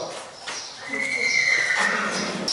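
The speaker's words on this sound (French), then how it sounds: "Là, nous sommes dans le box du cheval." A horse neighs inside its stable box at a national stud farm, a drawn-out whinny rising over a dull, reverberant indoor background with light shuffling.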